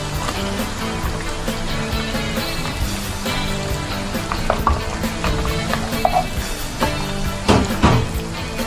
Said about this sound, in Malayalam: നമുക്ക് ഈ ഉള്ളി ഇട്ട് കൊടുക്കാം